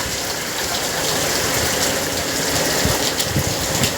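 Heavy rain pours down steadily outside a house, a dense, continuous hiss of water with occasional louder splashes, heard up close and alone.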